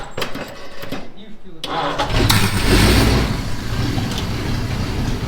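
An old barn-find car is cranked over with its choke pulled out, and the engine catches and roars into a rough idle. People talk loudly over the starting.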